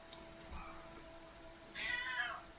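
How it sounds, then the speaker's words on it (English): A pet cat named Koshak meows loudly and close by, one drawn-out cry near the end following a fainter mew, with no talking over it. "Sun's down, cat's back."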